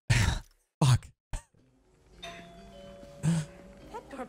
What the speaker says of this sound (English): That doorbell's been broken for years.